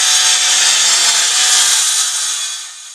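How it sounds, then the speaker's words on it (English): A circular saw cuts through 18mm plywood with a loud, close, bright whining rasp that holds steady, then drops away slightly near the end as the cut finishes. "I'm using my circular saw to cut out the pieces that I need to construct my box."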